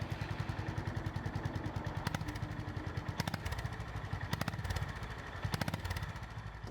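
The engine of a Honda GB350S motorcycle chugs at low revs in an even, rapid stream of quiet thumping pulses, heard alone and close.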